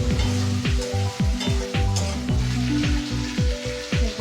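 Egg and potato curry with spices fries in a pan, a dense, continuous sizzle with occasional stirring scrapes, close and loud throughout.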